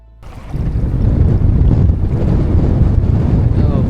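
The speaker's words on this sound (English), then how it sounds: "it's stupidly windy right now" Strong wind buffets the microphone outdoors on the water during paddling, a loud, rough, continuous roar that kicks in abruptly and persists throughout.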